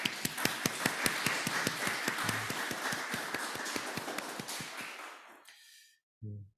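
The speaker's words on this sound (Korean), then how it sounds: "감사의 박수를 드립니다" A church congregation applauds after a Sunday service, many hands clapping at a steady quick pulse that thins and fades out over several seconds, followed by a brief low sound after a short silence.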